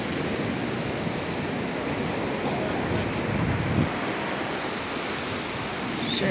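Rough sea waves surge and roar in a continuous, loud wash, with wind buffeting the microphone throughout and a slight swell of breaking surf partway through.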